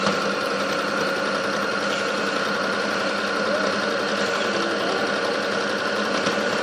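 A sewing machine stitches a pair of newborn pants, running in a steady, continuous mechanical whir up close, with no pauses and no talking.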